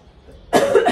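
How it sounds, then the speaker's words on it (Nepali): A person coughs abruptly after a quiet moment, a close, loud burst of two or three rough coughs in quick succession. "कुरा पचेन, खोकी लगाइहाल्यो"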